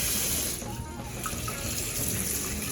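Tap water runs steadily into a kitchen sink while a whole turkey is rinsed, a constant close splashing hiss with no break.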